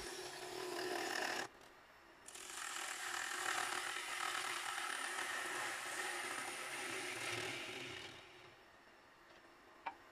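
A lathe makes the final cut on a spalted silver birch bowl: a fairly quiet, steady broadband hiss of the tool shearing wood, with a brief burst at the start, a short gap, then about six seconds of continuous cutting before it stops.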